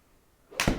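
A single golf club swing at a driving lesson, a brief rising whoosh swelling near the end into a sharp close swish, with quiet before it and no talk.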